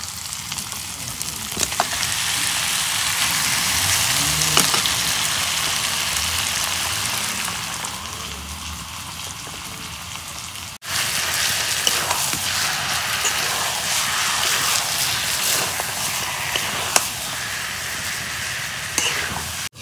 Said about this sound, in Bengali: এখন আমি মাংস দিয়ে দিই।